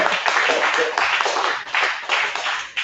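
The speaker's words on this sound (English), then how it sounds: "clap it up for that one time" A comedy club crowd claps briefly, a dense patter of hands with bursts that swell and dip and a voice speaking over part of it.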